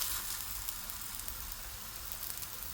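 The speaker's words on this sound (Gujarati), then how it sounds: "હું તો સેલો ફ્રાય કરીશ" Shallow frying in a little ghee gives a steady, fairly quiet sizzle with fine crackle spread evenly through the clip, no voices.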